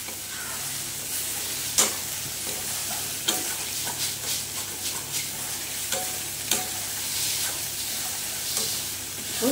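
Spices with yogurt and water sizzle steadily in a frying pan for chana pulao, with repeated scraping stirring strokes cutting through the constant hiss at close range.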